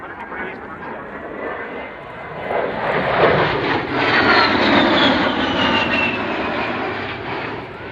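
An A-10 Warthog, a 35,000-pound jet, performs a rapid roll at an air show, its engines roaring loudly and swelling in a broad, sweeping pass that peaks midway before easing slightly.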